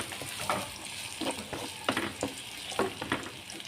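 Chopped ginger frying in a pan with golden-fried onions, a continuous sizzle broken by scraping stirs that come in short uneven strokes, close-up and fairly loud with no talking.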